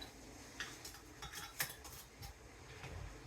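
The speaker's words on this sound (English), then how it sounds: "Wipe the top. The lid and a ring." A metal lid and screw ring are set onto a quart jar of canned peaches, heard as a few light metallic clinks and scrapes, quiet and close, with no talk.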